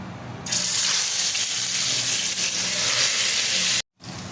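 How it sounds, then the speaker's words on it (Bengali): Chicken fries in hot oil in a karahi with a loud, continuous sizzle that starts sharply, holds steady and cuts out briefly just before the end. "চিকেনটা কেমন ভাজা হয়ে গেছে ব্রাউন কালার হয়ে গেছে"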